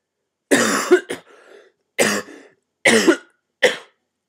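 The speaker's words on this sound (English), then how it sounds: "any of the hacking and coughing" A person coughs in several harsh, close bursts, two quick hacks, then three more spaced coughs with short pauses between.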